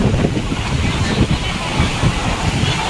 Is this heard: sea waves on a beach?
yes